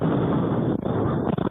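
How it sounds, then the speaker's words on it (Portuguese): Explosions caught by a home surveillance camera: a heavy, sustained rumbling roar fills the whole clip, loud and distorted, with brief dips suggesting two blasts blending into one continuous boom. "O barulho das explosões foi registrado por essa câmera de monitoramento."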